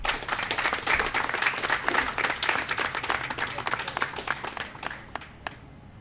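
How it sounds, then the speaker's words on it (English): Audience at a 9/11 tribute memorial service breaking into loud sustained applause that thins out and fades over about six seconds, dense clapping from many hands in an outdoor gathering. "let's give him another round of applause."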